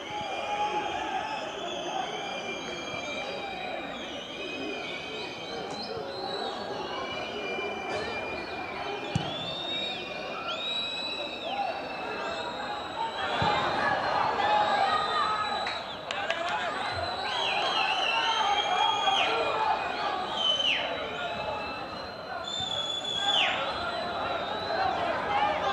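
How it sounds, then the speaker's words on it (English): A football stadium crowd at a Libya v Gabon World Cup qualifier whistles for the Ethiopian referee to call time. Many shrill whistles overlap above a steady roar of cheering and chatter, growing louder in the second half. "Whistles from the crowd, trying to encourage the Ethiopian referee to call time"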